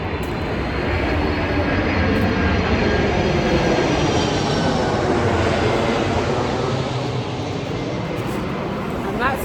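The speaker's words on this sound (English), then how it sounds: "That's a plane." A fixed-wing airplane passes overhead near a UK airport, its loud, steady engine roar sustained for the whole stretch with no talking over it.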